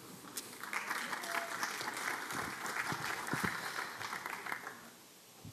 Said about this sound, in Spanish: Se aceptan aplausos.